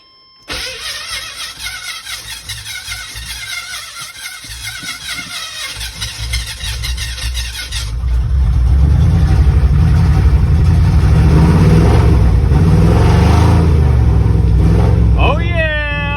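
A 5.7 Vortec V8 running after a timing adjustment, a steady idle that swells into a loud, sustained rev with a deep rumble, with a voice heard near the end.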